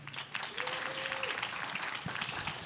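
An audience at a publishing summit applauds, a full, steady round of clapping from many hands at moderate distance, with a voice briefly audible within it.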